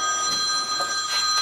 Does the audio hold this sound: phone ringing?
yes